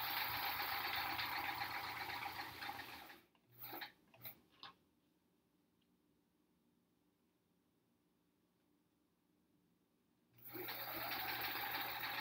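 A sewing machine stitching a quilt top whirs in a steady, close mechanical run, stops for several seconds with a few clicks and handling noises, then starts running again.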